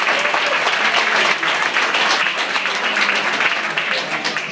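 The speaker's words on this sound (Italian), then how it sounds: "un applauso forte." Dense, continuous applause from a dinner crowd at a Torino football supporters' club event, loud and close throughout, with no break.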